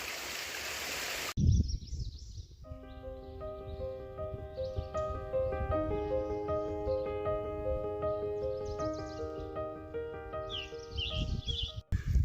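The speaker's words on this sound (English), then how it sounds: "And the water runs out into that stretch of forest." Stream of water running through forest on the Appalachian Trail, first a brief, bright rush on its own, then a softer flow beneath layered sustained musical tones.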